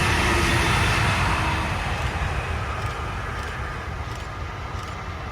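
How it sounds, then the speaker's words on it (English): A Brightline high-speed train in its Princess Cruises wrap rolls west toward the Orlando Airport station, giving a loud, broad rushing roar up close that slowly fades as it passes. "I saw BLF 702, the Princess Cruises Wrap train headed west towards the Orlando Airport station"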